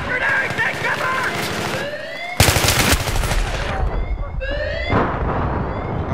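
Gunfire in a Battlefield 3 rush match, rapid bursts and cracks of automatic weapons mixed with sharp impacts and blasts, loud and close, with a player's voice talking over parts of it.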